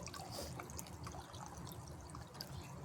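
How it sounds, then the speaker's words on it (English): Water pours steadily into a garden water feature planted with a water lily, a continuous close splashing trickle with no voices. "add some water to these."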